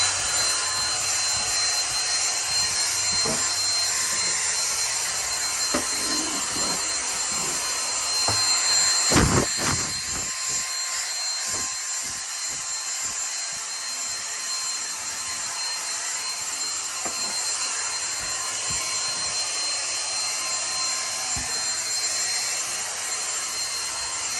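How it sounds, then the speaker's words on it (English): A steady, loud whirring hiss of a vacuum cleaner runs throughout, with brief knocks and a short louder burst partway through. "now I'm going to commence to vacuum this crap off"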